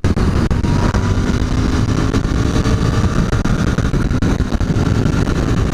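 A Royal Enfield Continental GT 650 motorcycle engine runs loud and close on a test ride, a steady dense roar that stays full throughout with no pauses.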